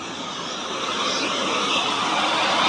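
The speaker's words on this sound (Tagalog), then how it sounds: "ito na yung transfer pump natin" A transfer pump runs at a sewage treatment plant, giving a steady broadband rushing drone with a gradual slight rise in level.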